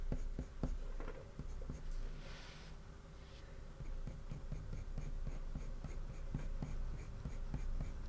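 Colored pencils scratch steadily across paper while shading a cat's eye drawing, a close, continuous soft scraping with small strokes and taps, fairly quiet and without talk.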